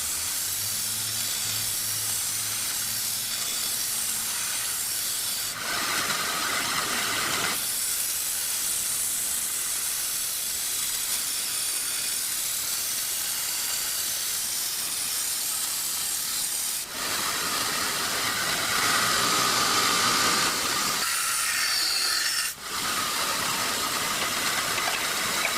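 Grinder refining the edge of a handmade steel herb chopper knife, a continuous hissing abrasive rush that swells in bursts as the blade presses on, with brief pauses between passes.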